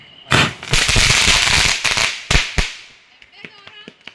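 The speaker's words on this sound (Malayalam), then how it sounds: "നമ്മുടെ പടക്കം പൊട്ടിക്കൽ തീർന്നു കേട്ടോ" Several loud firecracker bursts crackle close by in quick succession, then fade as people talk and exclaim in the background.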